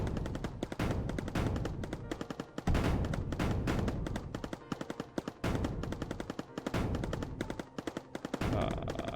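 Rapid bursts of turret fire from the video game Mindustry rattle almost nonstop, dense and loud, with brief gaps between volleys.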